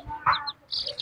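Aseel bantam chickens clucking close by, a few short throaty clucks and squawks packed into about a second.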